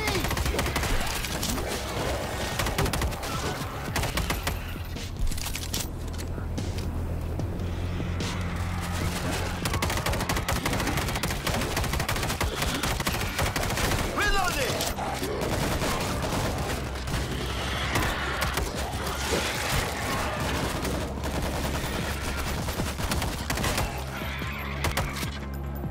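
Nonstop rattling gunfire and bursts in the zombie shooter World War Z, loud and dense throughout with explosive thumps mixed in and occasional voices under the shooting.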